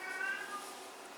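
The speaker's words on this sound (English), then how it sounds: "Hi Tiger, that's my cat," A cat gives one short, fairly faint meow in a kitchen during baking, a brief wavering cry that fades within a second; no talk over it.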